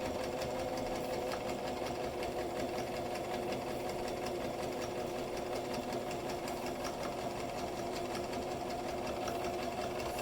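A sewing machine stitching the main part of a bag holder runs in one steady, rapid mechanical whir with a fast needle rhythm, close and continuous, no talk.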